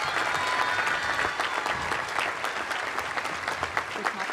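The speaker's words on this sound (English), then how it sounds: "Can we give them one more round of applause?" A high school commencement crowd gives a steady, dense round of applause that holds at an even level throughout. Some faint voices mix into the clapping.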